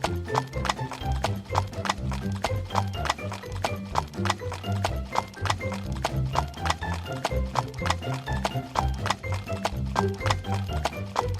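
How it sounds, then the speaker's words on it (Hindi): A horse-drawn carriage setting off, hooves clip-clopping in a steady brisk rhythm, loud and close, with a horse whinnying amid the hoofbeats under a dense backdrop. "ध्रुव अपने घोड़े गाड़ी में चढ़कर उस गांव में जाने के लिए निकलता है।"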